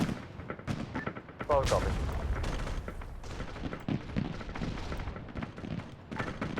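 Airstrike explosions from 2,750-pound bombs in the Arma 3 video game: heavy booms and gunfire-like blasts roll on continuously under and around brief radio-style talk.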